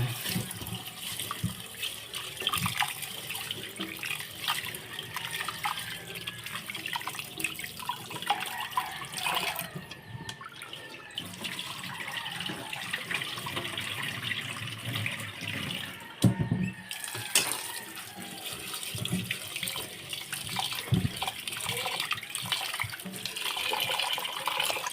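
Tap water running steadily into a sink while something is rinsed and handled underneath, a continuous close splashing hiss with occasional brief breaks and small clatters.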